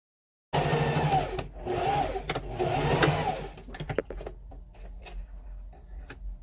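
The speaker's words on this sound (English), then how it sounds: "Now we're going to sew down from one end to the next." Sewing machine stitching denim from old jeans for a backpack: a close, steady mechanical whir with rapid ticking needle strokes starts suddenly, runs for a few seconds, then slows into scattered clicks and knocks.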